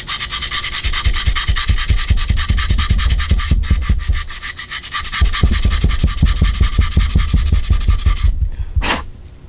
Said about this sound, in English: I'm going to sand it up a little bit